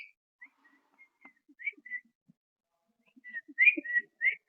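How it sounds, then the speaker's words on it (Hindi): A person whistles softly to call out an albino lovebird in an indoor breeding setup, giving short, faint whistle notes scattered through the quiet that grow louder and more rapid toward the end. "इसको मैं सीटी मार दूँ तो बाहर आ जाता है।"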